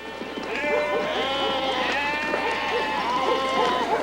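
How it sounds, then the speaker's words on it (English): A flock of sheep heads in for dinner, many overlapping bleats close by in a dense, continuous chorus. "And the sheep are going for their dinner."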